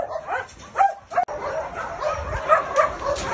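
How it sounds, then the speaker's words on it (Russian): Many puppies in the pens of a large dog shelter bark, yip and whimper in a busy overlapping chorus, close and moderately loud, with a sharp knock partway through. "Это все щенки. Щенячьи вольеры."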